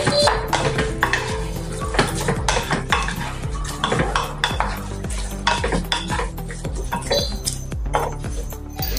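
A spoon stirs carrot and pea pulao with rice in a metal pan, giving repeated rhythmic scraping clinks against the pan with a soft sizzle, close and clear, with no talk.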